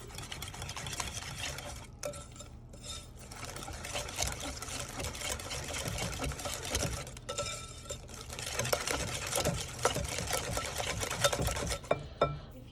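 Pancake batter of flour, milk and sugar being mixed in a bowl, a continuous scraping, clattering stir with quick repeated strokes, fairly faint and close, with no speech.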